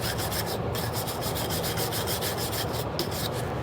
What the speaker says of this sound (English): You gotta scrub it.